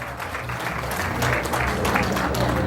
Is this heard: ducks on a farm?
no